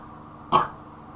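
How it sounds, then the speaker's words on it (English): One short, sharp cough, close and fairly loud, in an otherwise quiet room. "Coughing fits."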